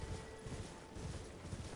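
Hooves of Torrent, the spectral steed in Elden Ring, clip-clopping in a steady galloping rhythm at moderate volume, close by, with no other sounds on top.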